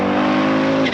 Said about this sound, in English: with his Audi's wastegate chattering happily away